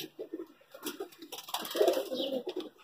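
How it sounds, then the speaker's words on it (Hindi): A Kalal Bangdi pigeon, a breed with heavily feathered feet, gives soft, low repeated coos close by, with faint rustling in the background and no talk. "ये कबूतर"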